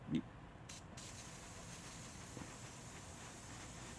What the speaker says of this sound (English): I'm just going to shoot them for shits and giggles here and see how they're going to look